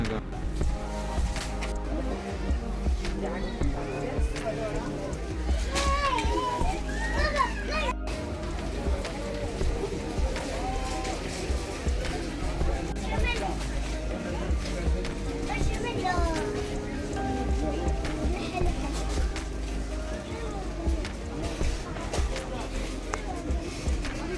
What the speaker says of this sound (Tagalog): ang ingay-ingay dito kasi ang maraming tao